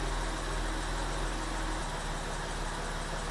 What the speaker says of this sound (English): it's now idling at around 700